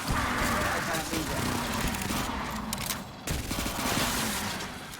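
Dense, rapid video game gunfire aboard a spacecraft while fighting aliens: loud continuous bursts with a voice talking over the shooting.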